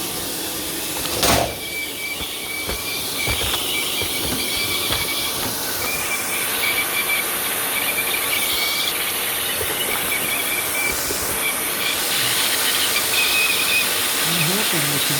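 A custom harp slider has a channel ground into its underside, giving a steady close hiss with high squealing grind tones that runs almost unbroken, with a brief sharp burst near the start.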